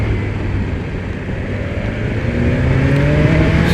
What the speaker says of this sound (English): So we got those revs round.